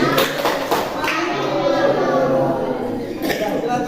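A classroom of adults in Indonesia claps a quick rhythmic "tepuk manis" pattern together during a lesson, several short bursts of claps mixed with chatter and a spoken voice, fairly loud and close.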